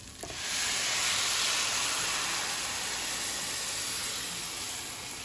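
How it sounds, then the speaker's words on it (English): Red liquid for Mexican red rice is poured into a pan of frying rice, setting off a loud, steady hiss of sizzling and steam that swells quickly and then holds for several seconds. "Then I'm going to add in my liquid."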